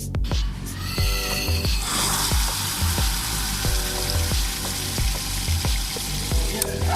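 Water runs from a tap fed by a pressure pump at a water tank, a loud continuous rushing spray with a rhythmic mechanical ticking from the pump repeating about every second.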